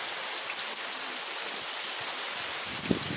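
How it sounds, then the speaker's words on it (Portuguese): Steady rain falls on a small country house porch in the Sertão das Marrecas, Sobral, a dense, even hiss that continues throughout without breaks. "mais agradável para os nossos ouvidos do que esse barulho de chuva"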